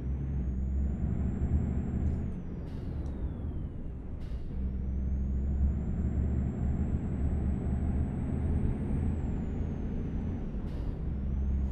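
A DAF 95 ATI truck pulling away in Euro Truck Simulator 2, a steady low diesel drone close up, joined by brief air-brake hisses and clicks, with a thin high whine gliding above it and no speech.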